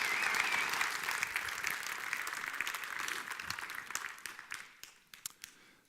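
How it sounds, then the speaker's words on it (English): Applause from an audience at an innovation award prize ceremony, a dense burst of many hands that gradually thins out into a few scattered individual claps before stopping. "A round of applause, please."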